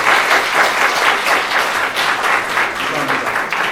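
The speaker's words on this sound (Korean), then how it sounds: "축가를 준비해 주신 분들께 다시 한번 뜨거운 감사의 박수를 부탁드립니다." Wedding guests at a church ceremony in Anyang applaud the singers, with loud, sustained clapping from a full crowd that fills the room, rising and falling slightly in waves.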